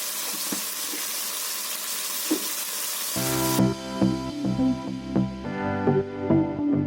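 Chillies hit spiced oil in a pan with a steady broadband sizzle, then stirring and clinks of a utensil against the pan join in over the sizzle, close and moderately loud.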